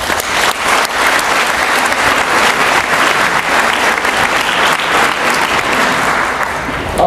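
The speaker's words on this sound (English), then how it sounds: "So let's give them a round of applause." A commencement audience gives loud, sustained applause: dense clapping from many hands, steady and close throughout with no pauses.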